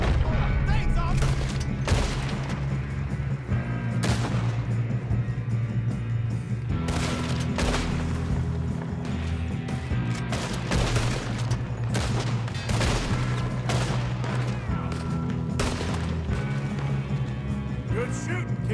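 Western gunfight in Red Dead Redemption 2 brings repeated rifle and pistol shots cracking and booming throughout, with dense, loud bursts layered over game music.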